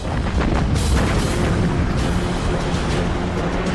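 Heavy booming naval shell explosions from Japanese gunfire rumble continuously, deep and loud, with repeated bursts layered over one another in a sea battle around the destroyer Johnston.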